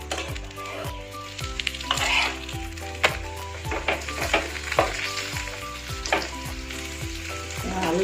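Aloo paratha fries in a pan with its edges pressed down to crisp, giving a steady loud sizzle broken by repeated sharp scrapes and taps of a utensil against the pan.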